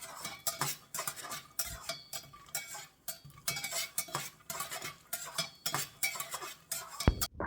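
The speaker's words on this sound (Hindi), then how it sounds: "1 कटोरी मूंगफली डालेंगे। अब इसको भूनेंगे, थोड़ा सा सुनहरा ब्राउन होने तक भूनेंगे।" Peanuts dry-roasting in a pan, stirred with a utensil that scrapes and clinks against the metal in steady, repeated strokes, with a faint rattle of nuts throughout.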